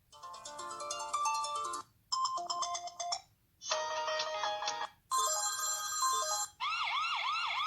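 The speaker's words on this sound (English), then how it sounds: "select a ringtone you'd like to be notified when there is motion detected" A sequence of different phone ringtone samples previewed one after another as choices for a security camera's motion-detection alert, each a bright electronic melody lasting about a second or two separated by brief gaps, the last with a swooping siren-like tone.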